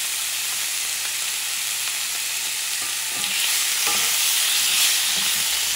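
Lean bison meat sizzles steadily in a cast iron pot, a bright continuous frying hiss, with scraping stirring strokes becoming louder and more frequent toward the end.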